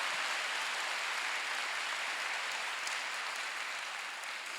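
A church congregation applauds at a Wednesday worship service, a dense, even wash of many hands clapping at moderate distance that holds steady throughout.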